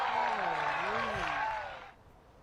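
Crowd at a disc golf championship final round cheering and applauding loudly, a dense sustained roar that swells and then fades out after about two seconds, with a commentator's voice riding over it.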